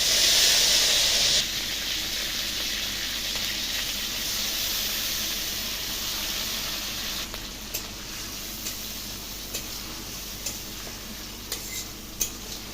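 Bay leaf and whole spices crackle in hot oil, a loud bright sizzle bursting up at the start, then settling into a steady hiss broken by a few small pops and spoon clinks.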